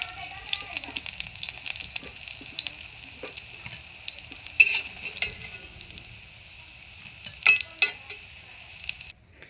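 Small fish fry in hot oil in a pan with a constant soft sizzle, broken by sharp scrapes and clinks as they are stirred and turned.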